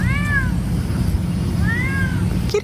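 Two drawn-out meows from a cat stuck up a tree, with a pause between them, heard at a moderate distance against a constant low outdoor hum.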